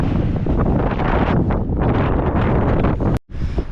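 Strong wind roars steadily against the microphone, a dense, continuous rumble with gusty surges and a brief dropout near the end.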